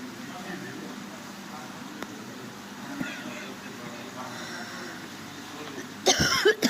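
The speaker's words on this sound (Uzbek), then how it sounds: "Yo'talim tutib qoldi." A person coughs near the end, a sudden harsh burst of a few coughs after a stretch of quiet outdoor background.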